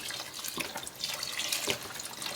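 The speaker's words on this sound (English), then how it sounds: "now let's add the water. In this case, I'm adding low sodium chicken stock." Low sodium chicken stock is poured into a cooking pot for arroz con gandules, a close, steady splashing stream of liquid with a few louder surges.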